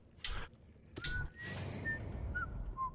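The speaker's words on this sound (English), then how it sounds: "Why is anybody whistling in this hellhole?" Whistling in the Dragon Age: Origins video game, a few short, clear whistled tones in a thin melodic line, set after a couple of dull thuds and heard over a faint ambient background.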